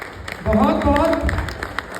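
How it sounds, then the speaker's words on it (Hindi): Meeting audience in Goa claps loudly in a continuous wash of applause, heard under someone speaking over it. "शानदार तालियां होनी चाहिए सर के लिए"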